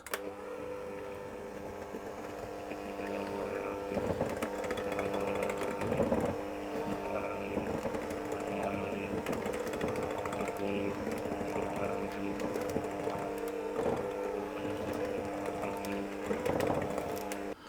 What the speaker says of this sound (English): I'm going to pour my dry ingredients in, and I'm going to mix that on a low speed until it all starts to clump together.